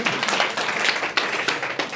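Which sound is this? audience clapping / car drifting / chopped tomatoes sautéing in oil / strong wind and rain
audience clapping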